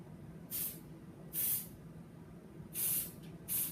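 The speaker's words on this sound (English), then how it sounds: "So we're gonna spray these to make them gold colored like this. The best way to do this is short sprays" Gold spray paint hisses from an aerosol can onto cake pops in four short separate bursts, each under a second, with quiet pauses between them.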